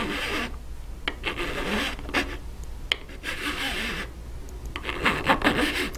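A hand file rasps across the ends of a jump ring on a bar necklace in short, close strokes, a gritty rubbing rhythm with brief pauses between swipes.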